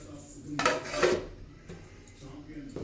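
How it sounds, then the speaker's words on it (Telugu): A pot of vegetable rice is stirred with a utensil, giving a couple of clanking scrapes of metal cookware, and then a lid settles on top with a softer clink, close up, with faint background noise. "ఇలా కలబెట్టేసి మూత అయితే పెట్టుకుందాం."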